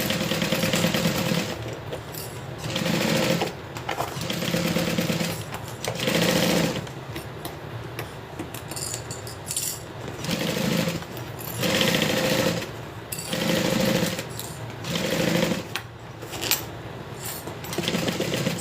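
A sewing machine stitches the side seams of a Colette garment in repeated loud bursts of rapid mechanical whirring, separated by brief pauses, close up and with no talk over it.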